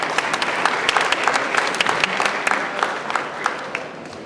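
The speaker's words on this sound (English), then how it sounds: "Let's give Ms. Steen a round of applause as well." Loud, sustained audience applause fills a school district student recognition ceremony, with many hands clapping close by and a few sharp individual claps standing out before it begins to taper.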